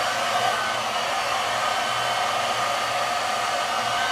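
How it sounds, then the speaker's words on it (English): A hair dryer blows steadily on a synthetic wig during styling, a loud continuous whooshing roar with no talk over it. "I think I'm gonna have to turn this heat up a little bit though"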